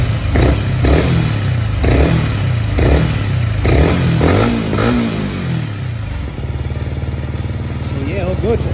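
A Yamaha XSR 125 fitted with a Leo Vince LV One Evo exhaust revs loudly and close, with repeated throttle blips rising and falling before it settles into a steady idle.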